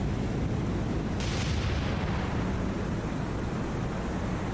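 Torpedo launch in the War on the Sea naval video game: a steady, dense roar of rushing water and engine rumble, with a brief brighter hiss of release near the start, continuous and fairly loud throughout.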